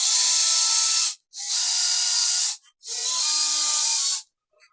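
A power drill drives small screws into rubber feet on a wooden cutting board, three steady whirring bursts of about a second each separated by short pauses, close and clear with no talk.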